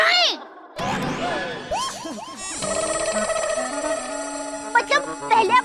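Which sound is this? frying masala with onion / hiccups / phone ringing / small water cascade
phone ringing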